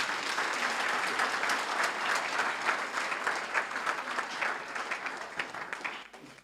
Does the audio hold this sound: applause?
yes